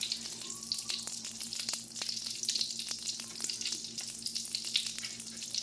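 Steak fingers coated in egg and pork rinds frying in a pan, a steady close crackling sizzle with small pops throughout and no talking.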